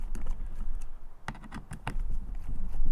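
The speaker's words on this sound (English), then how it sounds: "Now it's time to unscrew the side plate" Small screws are worked loose from the side plate of an Avet HX fishing reel, a series of close, crisp metallic ticks and clicks in quick irregular bursts over a low steady background hum.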